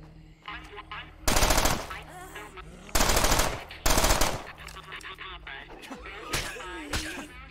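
Machine gun fire during a zombie fight in State of Decay, heard as three loud, dense bursts of rapid shots, each under a second long, with quieter game noise and someone talking between them.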